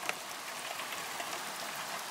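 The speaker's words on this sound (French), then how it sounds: "Regardez, il pleut bien." Steady rain falls outdoors in a soft, continuous patter of drops, fairly faint and unbroken, with no voices.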